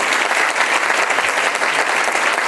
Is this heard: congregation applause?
yes